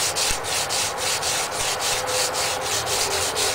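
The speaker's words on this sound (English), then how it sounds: "you're going to want to take the sandpaper and just very lightly go with the grain," Sandpaper rubs lightly along the grain of a wooden Mosin Nagant rifle stock in quick, regular back-and-forth strokes, a close, rhythmic scratchy hiss.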